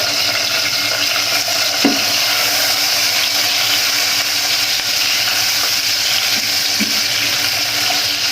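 Chopped onion frying in hot oil for a Bangladeshi-style egg curry, a steady broadband sizzle running continuously with a few faint clinks of utensils against the pan.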